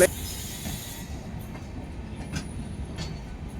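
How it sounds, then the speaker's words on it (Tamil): A train rolls past near Muneeswaran Temple in Katpadi, India, with rumbling wheels and occasional high squeals and clicks from the rails, steady and moderately distant. "ட்ரெயின் இப்படி போகுது."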